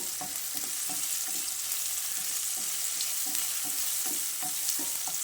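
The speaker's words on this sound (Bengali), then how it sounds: "তো আবারও ক্যাপসিকাম আর টমেটোটাকে ভালো করে নেড়ে চেড়ে নিচ্ছি।" Capsicum and tomato fry in a pan with a steady hiss. A spatula stirs them in a regular rhythm of soft scraping knocks that carries on throughout.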